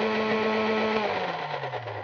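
Blender puréeing ingredients with about 50 ml of water added, a loud continuous motor whir that drops slightly in pitch toward the end as the load settles, with no voices.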